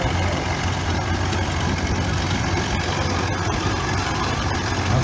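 An International TD6 crawler tractor rumbles steadily at a threshing bee parade, a continuous low, even engine drone held close throughout with no break.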